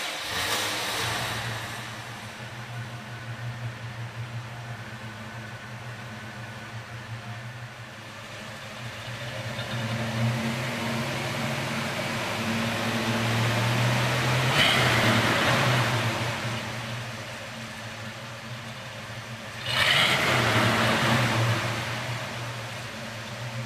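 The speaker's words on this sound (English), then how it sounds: "It runs as it should, firing up easily and settling into a rumbling idle" A 1979 Pontiac Firebird Trans Am V8 idles with a steady, deep, close rumble, swelling twice in brief revs before settling back to a throaty idle.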